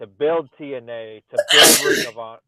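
A person sneezes once loudly in a sharp burst between stretches of someone talking.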